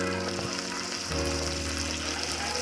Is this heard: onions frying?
yes